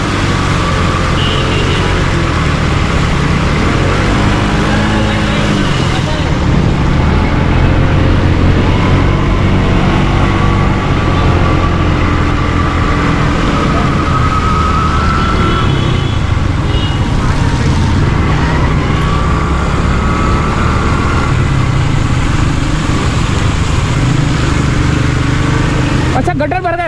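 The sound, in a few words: car engine kept revving while driving through flooded street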